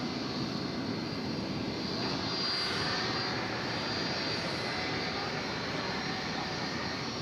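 An American Airlines jet on runway 18 left at DFW Airport gives a steady, broad engine roar that holds at an even, fairly distant level throughout, with no talk over it.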